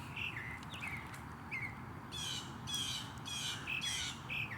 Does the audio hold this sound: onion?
no